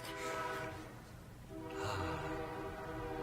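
A train on a nearby line sounds its horn in steady harmonic tones that swell, dip and swell again, faint and somewhat muffled behind room noise.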